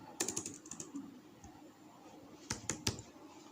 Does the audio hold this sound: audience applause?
no